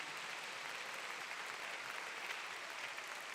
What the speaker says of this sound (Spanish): Si va a aplaudir, aplauda más fuerte.